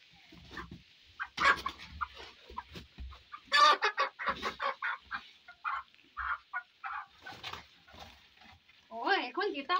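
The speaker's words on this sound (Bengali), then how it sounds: "শালা এখানে তো মুরগি আছে একটা।" A hen clucking indoors in short, bursty calls, close and fairly loud, mixed with rustling and a voice speaking.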